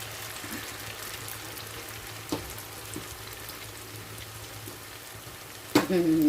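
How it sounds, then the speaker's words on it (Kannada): Cauliflower pieces deep-frying in oil for Gobi Manchurian give a faint, steady crackling sizzle, with a couple of soft taps and a louder clatter near the end. "ಒಮ್ಮಿಗೆ ಹಾಕೊಂಡ್ರೆ ಚೆನ್ನಾಗಿ ಕ್ರಿಸ್ಪಿಯಾಗಿ ಫ್ರೈ ಆಗಂಗಿಲ್ಲ"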